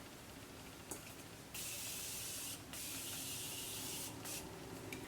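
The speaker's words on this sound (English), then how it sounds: "I'm gonna spray my face one more time" Two close, hissing bursts from a face setting spray bottle, the first about a second long and the second longer, over quiet room tone.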